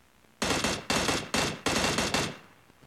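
Four rapid bursts of automatic AK rifle fire in PUBG Mobile, loud and close, each burst a quick string of shots separated by brief pauses, ending with a short fading tail.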